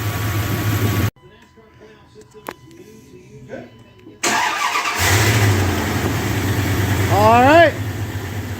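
A 2001 Dodge Ram 1500 with a swapped engine runs at a steady idle, cut by a quiet gap, then catches again and settles into a close, even running hum with brief squeaks near the end.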